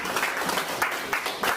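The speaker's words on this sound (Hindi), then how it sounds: "तालियां बजती रहनी चाहिए" Applause from the audience at a college retirement ceremony, continuous crowd clapping heard fairly close with slight swells in intensity through a brief stretch.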